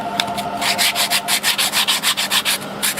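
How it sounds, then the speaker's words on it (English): Rhythmic back-and-forth sanding of wood while assembling an Avanti bike build, steady close strokes about every quarter second with no talking. "Sanding,"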